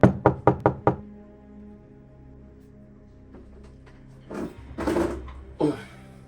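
Five rapid knocks hit a door close by, followed by a quiet pause and then muffled movement and thumps as someone responds.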